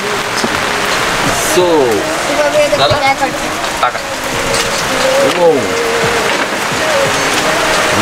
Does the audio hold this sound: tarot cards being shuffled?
no